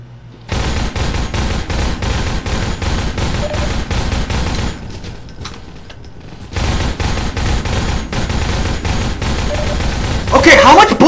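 Rapid, loud gunfire from Half-Life 2 rattles on almost continuously, stops for about two seconds, then resumes in dense bursts, with someone talking over it.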